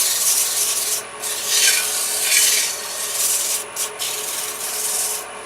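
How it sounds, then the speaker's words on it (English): Close, steady hand sanding of a dried finish with 600 grit sandpaper, a continuous fine rasping rub in back-and-forth strokes with a few brief pauses, no speech. "I'll use some 600 grit and go in and just kind of take off the high spots"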